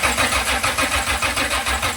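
A C30 engine cranks and catches on starter fluid, running in a steady loud pulsing rhythm close by with no voices.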